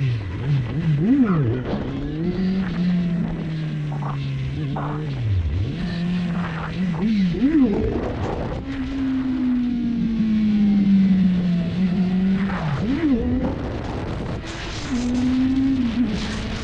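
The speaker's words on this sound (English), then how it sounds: "will it pop a wheelie? It will pop a" Loud Suzuki GSX650F motorcycle engine, its fuel pump recently cleaned, revving repeatedly during wheelies, with sharp rises and falls in pitch between sustained high-rpm stretches, close and continuous throughout.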